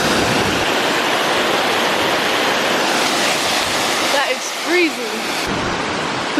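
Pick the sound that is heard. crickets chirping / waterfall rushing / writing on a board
waterfall rushing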